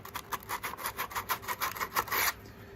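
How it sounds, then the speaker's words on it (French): Hand sanding of a wooden model car body with sandpaper, a steady run of rhythmic rasping strokes, close and fairly quiet, with no voices. "c'est les travaux de ponçage qui font le reste"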